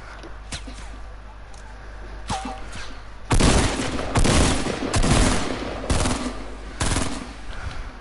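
Semi-automatic sniper rifle shots in a video game fire as several loud, sharp reports spaced about a second apart, with fainter taps before them and little talk.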